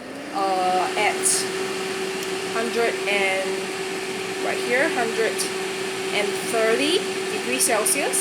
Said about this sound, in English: So now what I'm doing is I'm air frying it.